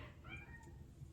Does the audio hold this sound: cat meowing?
yes